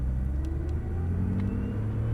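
A 500-horsepower Nissan GT-R pulls away gently at the Lédenon circuit, its engine a deep, steady rumble under light throttle, close and continuous.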